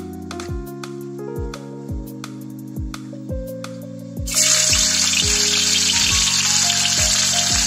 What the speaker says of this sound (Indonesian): Soalnya kita mau ditumis bumbunya.